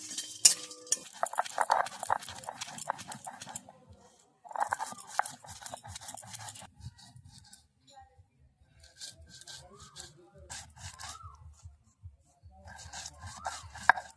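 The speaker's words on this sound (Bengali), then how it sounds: "এবার আমি শিলেতে ভালো করে মিহি করে গুঁড়ো করে নেব" Roasted spices being ground fine on a shil, a flat grinding stone, for a sweet raw nora fruit pickle. Close, rhythmic rubbing and scraping strokes come in bursts with short pauses between them.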